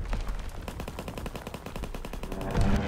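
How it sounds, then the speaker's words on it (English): Rapid machine-gun fire from a fighter plane's strafing run in a combat video game, a dense, sustained rattle of shots with a louder burst near the end and no talking. "Fighter pilot ready for strafing run."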